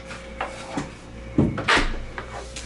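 Refrigerator crisper drawers in a clean, newer apartment kitchen slide and knock in a few short wooden-sounding bumps and scrapes, close and fairly quiet, with no voices.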